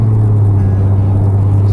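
A car drives steadily, with a constant low engine hum and road rumble filling the interior and no variation in pace.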